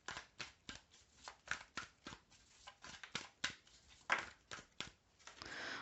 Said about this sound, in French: On va tirer quelques cartes de l'oracle coup de cœur.